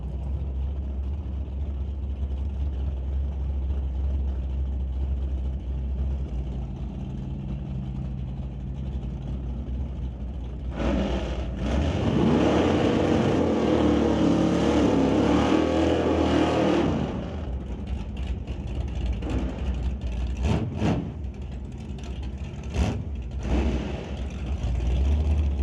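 Hot rod race cars at the Old Car Centre drag race: a steady low engine rumble swells into a loud, roaring burst as the cars launch mid-way, then falls back to a rougher idle with a few sharp pops.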